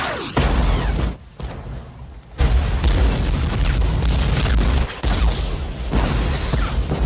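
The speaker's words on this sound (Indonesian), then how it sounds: "kemudian Kapten John memerintahkan Jack untuk memanggil artileri dengan koordinat barunya." Artillery shell explosions in a war film battle on a remote island, a series of loud, booming blasts with rumbling tails, separated by brief drops in level.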